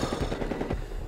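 Automatic gunfire from Battlefield Hardline rattles in quick, loud, close bursts, with shots packed tightly together and no talking.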